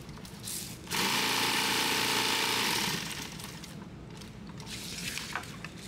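Sewing machine stitching Velcro onto 2-inch nylon webbing: a steady close mechanical whir for about two seconds, then quieter handling noises.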